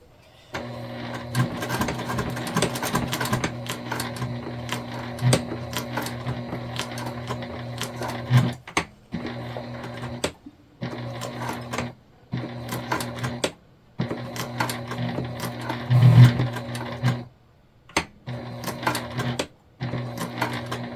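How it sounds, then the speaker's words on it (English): A sewing machine runs close by, stitching and back stitching a tote bag in repeated humming bursts of steady needle chatter separated by short pauses, no voices over it. "So we're just like stitching and back stitching"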